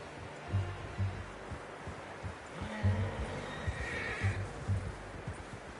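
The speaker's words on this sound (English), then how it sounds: "How's that new horse?" Horse neighs and whinnies in Red Dead Redemption 2, several repeated calls close by over a steady outdoor game background, with faint hoof clopping and no talk.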